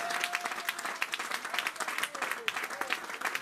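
Applause from a church congregation during a French-language sermon, a steady patter of many hands that stays moderately loud for the whole stretch, with voices and cheering mixed in and a faint tonal whistle or hum running underneath.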